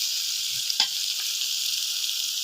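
Green chilies and greens hitting hot oil with browned onions in a pan on a clay stove, a loud continuous sizzle with a brief clatter of tossing close by.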